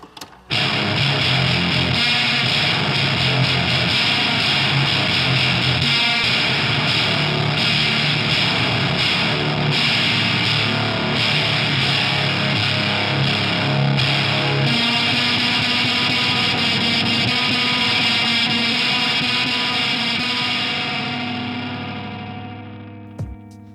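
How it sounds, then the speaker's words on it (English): A heavily fuzzed electric guitar played through a Holy Island Abracadaver fuzz pedal sounds continuously, thick and saturated with a buzzing sustain, ringing out and fading at the end. "my personal favorite distortion pedal, fuzz, whatever you want to call it"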